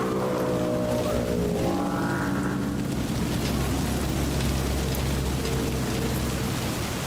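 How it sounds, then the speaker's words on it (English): Steady rain falling in the rainy city streets of the video game Cyberpunk 2077, a continuous broadband hiss with low ambient music tones underneath, no talking. "The rain sounds so tranquil."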